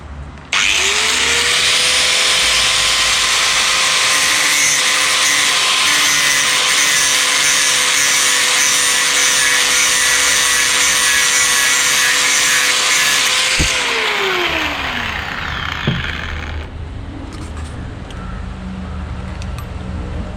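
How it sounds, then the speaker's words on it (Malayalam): An electric grinder spins up and grinds steadily on the sides of a metal motorcycle handlebar clamp for an FZ V2 meter mount, loud and close with a constant high whine, then winds down as the disc slows. "അതിന് വേണ്ടി നമുക്ക് ഗ്രൈൻഡ് ചെയ്യാം"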